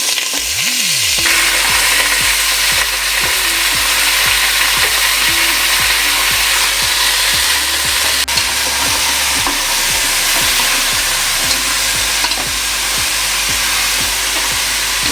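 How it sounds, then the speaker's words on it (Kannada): Mutton dropped into hot oil for a country-style mutton sambar, producing a loud, steady, close sizzle and frying hiss that runs unbroken with faint stirring scrapes, no voices. "ಎಣ್ಣೆ ಕಾದಿದೆ ಮಟನ್ ಹಾಕ್ತೀನಿ"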